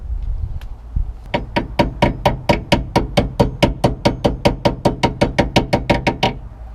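A small hammer taps a hinge pin into a 1978 Bronco door with about twenty-five sharp, evenly spaced metallic strikes close by, a few quieter handling knocks coming before the steady run, with no talk.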